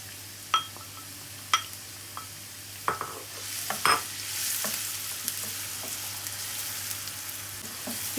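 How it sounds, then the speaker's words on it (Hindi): Onions hit hot oil in a pan and fry with a soft steady sizzle, punctuated by sharp clinks and scrapes of a spoon stirring them, with no talking. "ऑयल गर्म हो गया है, मैं प्याज शामिल कर देती हूँ इसके अंदर और इसे फ्राई कर लेती हूँ"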